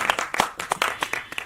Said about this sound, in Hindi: प्लीज अपने लिए ताली बजा लें